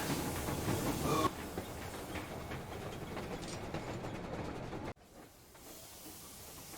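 Steam train from the video game Metro Exodus rolling along rails, a steady hissing rumble with faint rhythmic clatter that shifts in level partway through and then drops away abruptly near the end.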